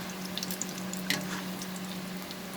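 Brinjal fritters (beguni) frying in hot oil give a steady, close sizzling hiss with faint crackles throughout, no voices.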